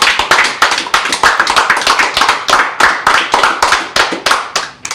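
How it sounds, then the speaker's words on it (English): A crowd claps steadily for five seconds, a dense, even patter of many hands with no voices rising above it. "Can we have a round of applause for"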